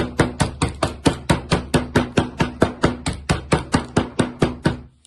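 Repeated bashing of ingredients for no-bake chocolate peanut butter bars, about twenty sharp, evenly spaced thuds in a steady rhythm, close and loud, with no talking.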